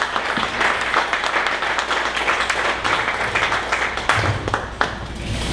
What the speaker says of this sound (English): please stand up and give him a round of applause